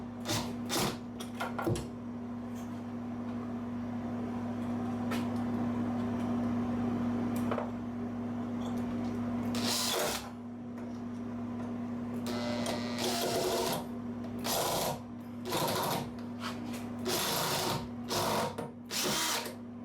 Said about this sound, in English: Just screw them in.